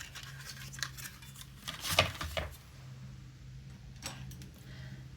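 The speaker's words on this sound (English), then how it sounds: "And then I'm going to just snip this off here." Scissors snip a paper tag in a quiet room, making one crisp close cut amid soft handling rustles and a faint steady hum, with no talk.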